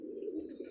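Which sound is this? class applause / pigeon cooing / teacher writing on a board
pigeon cooing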